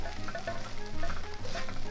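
Shrimp fried rice crackles and sizzles in a hot wok. Continuous frying noise is close and moderately loud, with stirring and tossing scrapes breaking through the steady hiss.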